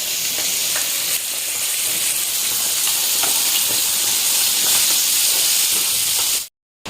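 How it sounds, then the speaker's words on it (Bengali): Light drizzling rain falls outside an open window as a steady soft hiss that carries on evenly for several seconds, then cuts out abruptly near the end. "বাইরে এখন ঝিরিঝিরি করে বৃষ্টিও পড়ছে"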